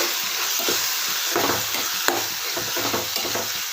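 Turmeric and chilli powder being stirred into a frying peanut and broad bean (avarai) curry, with steady sizzling oil and repeated scraping strokes of a spoon against the pan, close and fairly loud with no talking.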